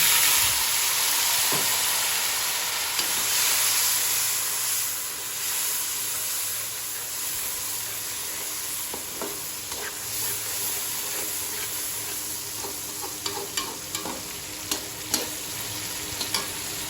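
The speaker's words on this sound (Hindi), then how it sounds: "प्याज और अदरक लहसुन का जो पेस्ट अच्छी तरह से बीच में फ्राई हो चुका है, अब हम इसमें ऐड करेंगे टमाटर" Steady sizzling and crackling as tomatoes fry in onion, ginger and garlic paste in a hot pan, with occasional stirring scrapes and clinks near the end.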